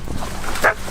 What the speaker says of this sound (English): the dogs track the boars, and once they locate them, they either bay or catch them